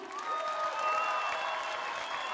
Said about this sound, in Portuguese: Mais uma grande salva de palmas para o Rui Xará